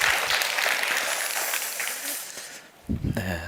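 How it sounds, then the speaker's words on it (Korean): A church congregation claps together, a few seconds of dense applause that thins and fades before a voice speaks over it at the end. "주님 앞에 영광 돌리면서 박수 한번 하시겠습니다"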